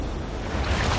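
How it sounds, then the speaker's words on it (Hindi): A big ocean wave crashes near an island, a brief loud surge of surf and wind noise swelling up close, with no talking. "ये आई बड़ी लहर।"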